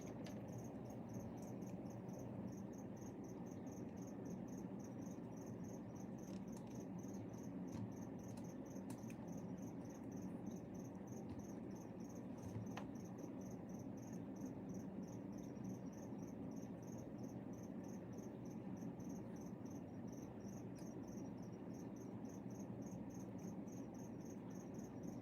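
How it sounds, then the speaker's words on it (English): Crickets chirp steadily in a continuous high trill at night, a dense, even chorus that runs unbroken and fairly close, with no voices. "Yeah, the crickets are happy now."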